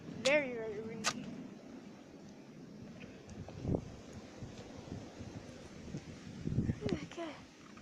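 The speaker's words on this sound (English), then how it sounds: "Very, very windy." Gusty wind buffets the microphone outdoors on a cold day, a low rumbling roar that swells and fades, with brief voices and small noises over it.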